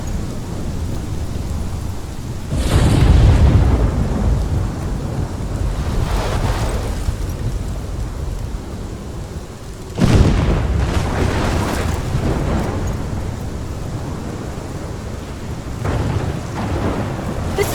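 Heavy rain pours steadily during a thunderstorm in the Life Is Strange video game, with two loud, close thunder cracks that roll and rumble for several seconds.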